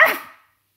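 A voice imitates a rabid dog with a single short, harsh, close bark that cuts off quickly.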